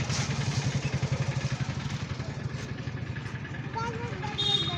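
A motorcycle engine runs with a rapid, even pulsing throb close by, steady and fairly loud, with brief higher clatter and a faint voice near the end.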